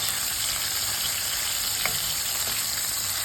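Tofu fries in hot oil in a pan for a spicy Sri Lankan tomato curry, giving a dense, even sizzle and crackle throughout with a faint utensil clink, no voices.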